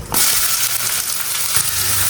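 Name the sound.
chopped onions frying in hot oil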